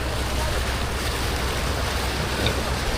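A fishing boat heads out on the Pacific Ocean, its run filled by a steady, close roar of wind and rushing water with waves slapping the hull, constant throughout with no voices.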